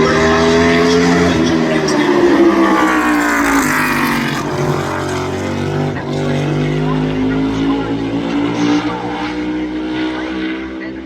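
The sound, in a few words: NASCAR Chevrolet race car driving at North Wilkesboro Speedway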